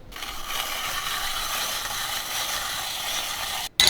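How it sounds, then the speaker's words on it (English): Dried garlic is ground in a small Pampered Chef hand grinder, giving a continuous close gritty crunching and rasping. It lasts several seconds, then stops abruptly. "I'm going to just use a little hand grinder that we have from Pampered Chef"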